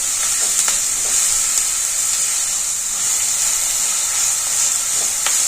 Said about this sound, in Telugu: కారము వేసి కొద్దిసేపు మగ్గిస్తాము.